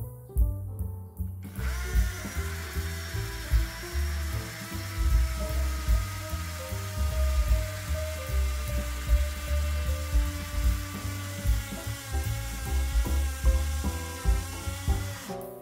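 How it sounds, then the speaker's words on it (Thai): OSUKA cordless impact drill boring into masonry with a 10 mm masonry bit, its largest size, a sustained loud grinding whir with rapid hammering pulses for about fourteen seconds after a brief quiet start. "การทดสอบที่หินที่สุดก็คือดอกขนาด10มิลลิเมตรซึ่งเป็นดอกเจาะปูนที่ไซส์ใหญ่ที่สุดที่สว่านตัวนี้รับได้"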